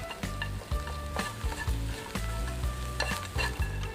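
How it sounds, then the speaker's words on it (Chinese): Small fish dry-roast in a wok over low heat: a steady soft sizzle with repeated scraping and clinking as the fish are stirred around the pan, close and continuous. "之后放进锅里面， 开小火慢慢烘干。"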